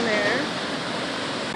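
A steady, loud rush of falling water from a waterfall seen from an overlook, a dense continuous roar filling the whole moment with no break.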